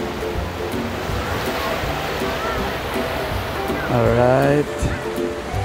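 Ocean waves wash steadily onto a Boracay beach in a continuous broad roar, with a person's voice rising briefly over the surf near the end.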